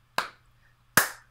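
Two sharp hand claps ring out nearly a second apart in a quiet room, each with a short decay and nothing else heard between them.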